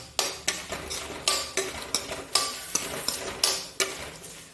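Green chilies frying in a kadhai while a metal spoon scrapes and stirs, giving a series of sharp, regular clinks over a faint sizzle, close and fairly quiet, with no talk.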